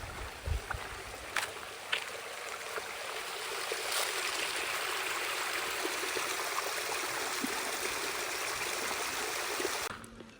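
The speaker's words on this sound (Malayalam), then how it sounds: "പിന്നെ ഇവിടെ ഒരു ചെറിയൊരു വെള്ളച്ചാട്ടമുണ്ട്." A small waterfall along the trail to Thirunettikallu hill near Josegiri produces a steady, soft rush of flowing water that lasts about ten seconds, broken by a few light clicks near the start, and cuts off sharply at the end.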